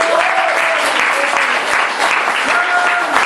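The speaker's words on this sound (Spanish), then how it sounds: "Denle un aplauso al Señor." Church congregation clapping together in a sustained, dense burst of applause filling the room, with a voice carrying over it.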